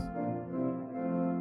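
A sampled Rieger pipe organ sounds an 8-foot stop at normal pitch, one sustained note with a rich stack of steady harmonics holding at an even, fairly soft level from start to finish, with no voice heard.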